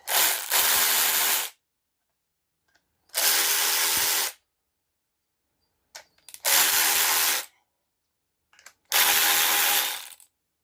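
Four bursts of a power tool, each about a second and a half long, working on a Peugeot 504 XD 2 diesel engine with an 11 socket. Each loud, steady whir is close by and separated by silence.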